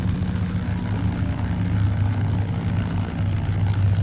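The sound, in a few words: de Havilland Beaver piston engine idling around 900-1000 RPM in X-Plane 12 video game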